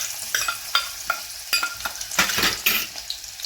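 Garlic sizzles in a hot pan while cooking a Ravas fish curry, with repeated scraping stirs and spoon clinks against the pan. The sound is close and lively, with no talk.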